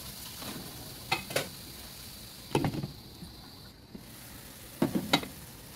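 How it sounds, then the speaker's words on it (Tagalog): Ground meat sizzles with garlic in a pan, a soft steady frying hiss broken by several brief stirring scrapes, close and fairly quiet with no talking. "Lutuin muna natin ang giniling bago ko ilagay ang ating tinapa."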